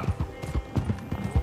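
Horses pulling a supply wagon in Red Dead Redemption 2 clip-clop in a quick, steady trot of close hoofbeats with a low rumble beneath.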